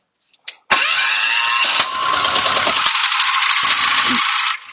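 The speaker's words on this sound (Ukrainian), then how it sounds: "це перший запуск мотоблока Моторсіч" A Motor Sich walk-behind tractor diesel engine is started for the first time. After a short crank it catches and settles into a loud, steady mid-pitched clatter, running continuously and close by, with a rattling tone until it shuts off.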